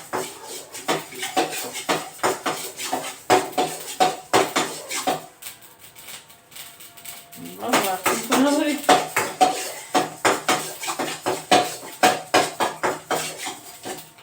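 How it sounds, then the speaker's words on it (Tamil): Mustard seeds crackle and pop in hot oil, a dense run of sharp little bursts, with a voice speaking briefly partway through. "நல்லா கடுகு பொரியும்."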